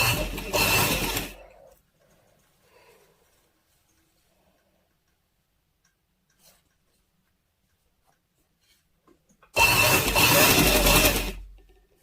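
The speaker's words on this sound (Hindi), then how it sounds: "अब मैं सिलाई लगा के आपको दिखाती हूँ।" Sewing machine running as a frill is stitched onto a baby girl's frock, with two loud bursts of steady whirring at the start and end, separated by a long near-silent pause.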